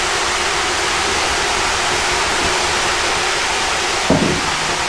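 Water splashed from a garden bucket onto a hot wood-fired Nippa sauna stove beside a pond, a brief sharp hiss and sizzle near the end rising over a steady, loud broadband rush of steam and ambient noise.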